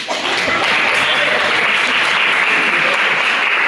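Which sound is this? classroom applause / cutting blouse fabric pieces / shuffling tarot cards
classroom applause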